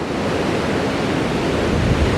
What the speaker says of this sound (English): Water's just surging in once.